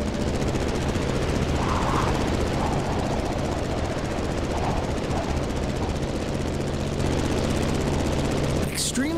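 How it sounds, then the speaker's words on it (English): In the video game The Crew Motorfest, a Granville GeeBee R Super Sportster racing plane drones with a loud, constant, rattling propeller-engine roar, sustained throughout with a brief whoosh near the end. "You've got to steer the plane all the way to the right."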